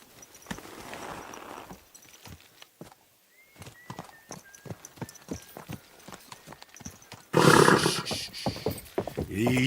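Horse hooves clip-clop steadily in Kingdom Come: Deliverance 2, a regular rhythmic gait with soft voices in between, ending in a louder burst of rustling movement.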